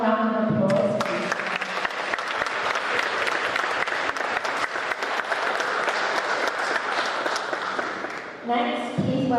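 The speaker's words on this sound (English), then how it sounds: "Can we have one more round of applause, please?" A concert audience at London Adam Day breaks into a loud, full round of applause that swells quickly and holds steady for several seconds, with speech heard briefly at the start and end.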